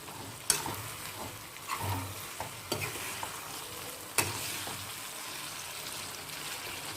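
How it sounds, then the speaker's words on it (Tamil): Mango pickle cooking open in a pan, stirred with a spoon: steady soft sizzle with several sharp scraping knocks from the utensil, no voices. "இந்த ஊறுகாவை நல்லா அடி பிடிக்காத அளவுக்கு கிண்டி விடணும்"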